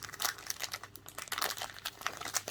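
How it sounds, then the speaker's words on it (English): Plastic bags holding newly arrived orchids crinkle and rustle up close in quick, uneven bursts of crackling, with no voices. "They're sitting in plastic bags this time."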